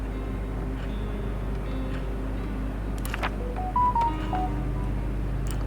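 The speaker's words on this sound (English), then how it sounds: "Let's turn off the ringer on my phone because it's really annoying." A phone ringer chirps in a few short, clipped electronic tone bursts midway through, sitting over a steady low hum and faint game ambience.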